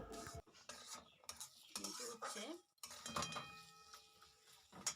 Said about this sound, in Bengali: দিয়ে দেব এক কাপ মটরশুঁটি এই মটরশুঁটিটাকে দিয়েও আমি মশলার সাথে কিছুক্ষণ কষিয়ে নেব